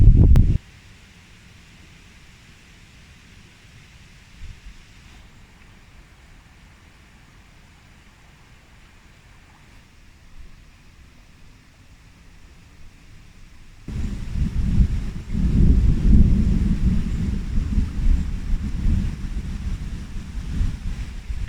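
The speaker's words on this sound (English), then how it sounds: "Sounds like a storm." Gusty wind before a storm at a campsite by an abandoned saw mill: a brief blast, a long quiet low rumble, then strong buffeting wind rising and roaring steadily.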